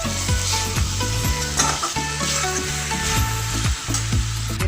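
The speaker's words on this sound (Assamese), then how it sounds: "মছলাখিনি দিয়াৰ পিছত ভালকৈ ভাজি ল'ব, গোটেইখিনি বস্তু একেলগে মিক্স কৰি ল'ব" Spices and broiler chicken fry in oil, a yogurt chicken dish on the stove, with a loud steady sizzle and rhythmic scraping strokes of a spoon stirring the pan, close up and with no talking.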